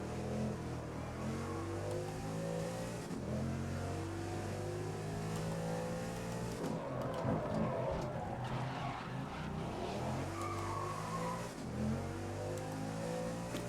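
Racing car engine in GRID 2019: a steady, close engine note rising through the revs, with audible drops in pitch on the shifts, including one rough, noisy downshift in the middle, and no talk.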